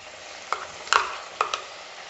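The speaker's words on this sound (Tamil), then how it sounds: "ஒரு நிமிஷத்துக்கு சிக்கன் வந்து நல்லா எண்ணெயில் வதங்கட்டும்" Chicken pieces fry in hot oil in a pan for a chicken curry, giving a steady hissing sizzle, while a few sharp clicks and scrapes from a stirring utensil break through. No one speaks.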